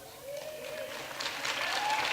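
Audience applause builds steadily in a hall after a guest is introduced, a broad wash of clapping that grows slightly louder toward the end, with no talk over it.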